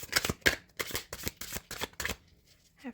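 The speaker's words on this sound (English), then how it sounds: "I'm not good at shuffling that way" A deck of Calandra tarot cards is shuffled by hand in a run of about eight quick, crisp riffling bursts, close and clear, before it tapers into a few softer taps and a faint rustle.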